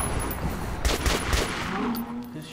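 Gunfire in the video game Metro Last Light, a short rapid burst of shots with a rumbling low end, loud and close, briefly rising and fading over a couple of seconds.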